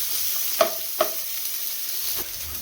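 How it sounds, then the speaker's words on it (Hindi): Vegetables shallow frying in a pan give a soft, steady sizzle, broken by two or three faint clinks and scrapes of a stirring utensil, quiet and close, with no talk. "बस इसको हल्का शैलो फ्राई करना है बस"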